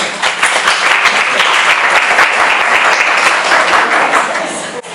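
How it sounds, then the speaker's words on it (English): Audience applause at a student alumni panel, dense, loud clapping from a room of people that holds steady for several seconds before tapering off at the end. "please give these folks a round of applause"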